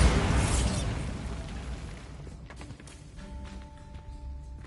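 A Bombarda spell explosion in Hogwarts Legacy opens with a loud, broad burst that decays into a rumbling tail, followed by faint clatters and a thin ringing tone.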